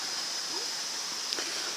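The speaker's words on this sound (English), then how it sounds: "Upper Waterfall." Upper Waterfall at Hogsback, the 39 steps falls, gives a steady, soft hiss of falling water from some distance, even and unbroken, with no one speaking.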